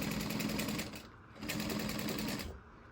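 A sewing machine back tacks along a handbag seam, with two loud bursts of rapid stitching separated by a brief pause.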